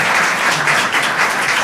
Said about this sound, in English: So y'all can clap now.